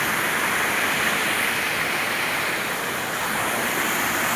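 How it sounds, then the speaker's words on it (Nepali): Sikari khola, a stream fed by water flowing out beneath a dam, rushes in a steady, loud broadband roar that stays unbroken throughout, with no voices. "मुनि हुँदै आउने पानी हो यो खोल्सा खोला"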